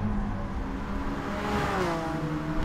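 McLaren race car engines in Gran Turismo on the Tokyo East Inner Loop circuit roar steadily, with harmonic engine whine rising in pitch as the cars accelerate, loud and continuous with no voices.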